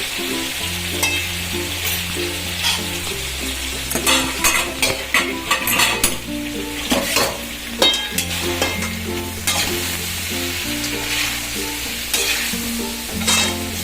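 Potato curry with gravy frying in a pan and stirred with a spoon, a steady sizzle under repeated scraping and clinking strokes close by, with a low hum beneath.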